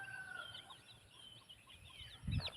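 A hen with a chick on a farm: faint background chirping and soft peeping, then a single short, louder cluck near the end, over a quiet ambient hiss.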